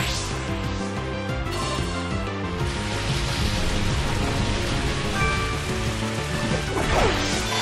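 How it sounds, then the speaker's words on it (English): Heavy pouring rain from a Pokémon Battle Revolution battle in the Colosseum, a dense steady wash under game music with occasional crashing hits, loud and continuous throughout. "It's pouring rain in the Colosseum."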